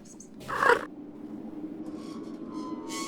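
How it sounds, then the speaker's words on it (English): A hungry cat in the video game Garden Variety Body Horror gives a single short meow, fairly close and clear, followed by quiet ambient game tones. "You fed the hungry cat."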